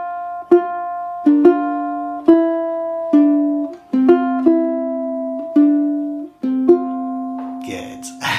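A slow fingerstyle ukulele passage, with about eight plucked notes and chords ringing out one after another at an unhurried pace, near and clear, followed by a short scuffle at the end.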